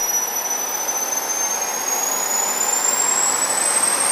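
Small turbine engine, a compact jet producing about 20 kilowatts, spooling up in RPM: a loud steady roar with a high whine that rises steadily in pitch throughout, close by and with no voices.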